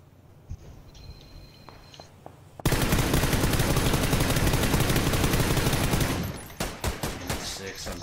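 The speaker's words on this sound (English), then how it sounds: "We're still getting shot by those fucking assholes." Sustained rapid gunfire in a video game match bursts in loudly after a quieter stretch, a dense automatic roar lasting several seconds before cutting back to lighter sporadic shots.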